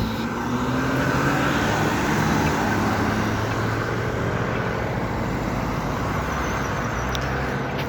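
Dense road traffic rolls past in a continuous, loud, unbroken roar, with no voices over it.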